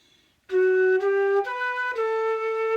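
Solo flute plays a clear, close phrase of four held notes stepping between pitches, with silence before it begins.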